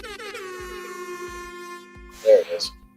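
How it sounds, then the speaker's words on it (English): A thin, feeble air horn honks for under two seconds, then someone speaks briefly. "that's a pretty weak air horn."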